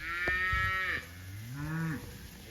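Cattle moo in a pasture, two long drawn-out calls in quick succession, the second lower and rising, close and clear over a quiet outdoor background.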